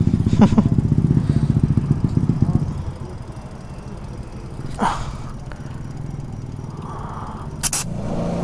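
A Suzuki Raider FI 150 motorcycle engine idles loudly up close with a low, steady throb, then drops to a quieter rumble broken by a few metallic clanks and knocks, no one talking.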